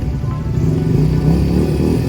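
Motorcycles in a column pulling away at a motorcycle festival in Bila Tserkva, a continuous rumbling engine drone at moderate distance with no voices over it.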